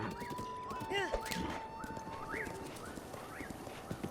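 Rhythmic clip-clop of horse hooves with a horse whinnying in The Legend of Zelda: Breath of the Wild, while people talk over it and a faint tone hums underneath.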